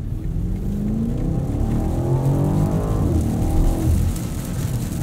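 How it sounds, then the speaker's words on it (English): A 2021 BMW Alpina XB7 drives through rain, with a steady wash of water and tyre hiss over a low engine drone. The engine note rises and falls once in the middle, close and continuous. "Boy, this rain just kind of came out of nowhere."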